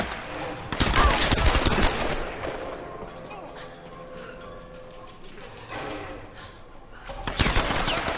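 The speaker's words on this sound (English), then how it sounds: "what are you doing shooting for no reason?" Gunfire in the video game Tomb Raider: loud bursts of rapid shots near the start and again at the end, with a quieter stretch of game sound between them.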